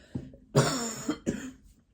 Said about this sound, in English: I've still got this cough.